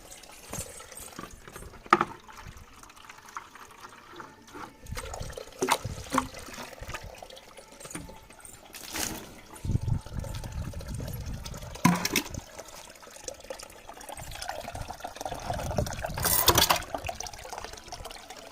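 Water pours and splashes unevenly, with bursts of trickling and gushing that rise and fall, fairly quiet, with no voices.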